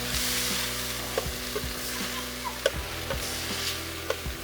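Steaks sizzling on a Blackstone griddle, a steady close frying hiss broken by a few light metallic ticks and scrapes of a utensil, no talk.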